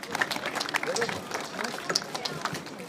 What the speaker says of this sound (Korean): 자 여러분 큰 박수로 환영해 주시기 부탁드리겠습니다